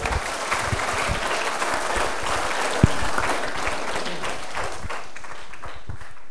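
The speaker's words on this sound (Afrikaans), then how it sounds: "Kom ons gee vir haar lekker aan 'n klap" Steady applause from a small gathering honouring a senior high-jump athlete, a moderate wash of claps with one sharp louder clap near the middle, continuing evenly to the end.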